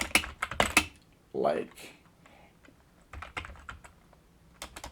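Quick bursts of computer keyboard typing in QWERTY mode for braille input, close clattering keystrokes in short clusters with a brief spoken word between them.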